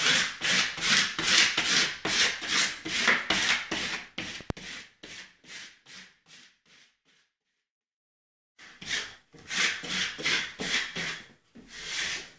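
A vinyl tree decal being rubbed onto a wall, close rhythmic swishing strokes in steady succession that fade out, followed by a few seconds of silence, then the rubbing resumes.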